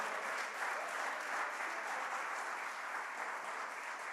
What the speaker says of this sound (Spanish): Den una ofrenda de palmas al Señor, por favor.